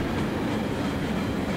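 Freight train with a Millennial EMD locomotive hauling tonnage northbound toward Binghamton, New York, rolling past in a steady, loud rumble of wheels on rails.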